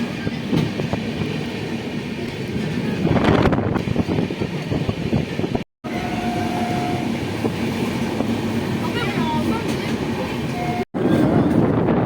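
A Howrah to Dehradun train runs along the tracks with a loud, steady rumble and rhythmic wheel clatter, wind rushing past and two brief cut-outs in the sound.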